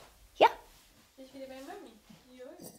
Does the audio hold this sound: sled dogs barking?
yes